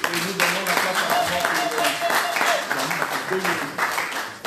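An audience at a church ceremony honouring women servants of God breaks into sustained applause, with voices calling and talking over the dense, fairly close clapping.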